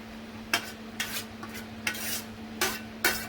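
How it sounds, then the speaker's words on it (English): Fresh fenugreek leaves stirred into mutton dhansak with brinjal and pumpkin in a pot over high flame, five or six separate scraping strokes of a spoon against the pot with a faint steady hum beneath. "Give it a nice mix"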